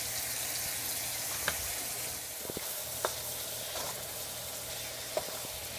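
Meat stir-frying with soy sauce and pepper, a constant close sizzle with a few soft clicks of the utensil against the pan.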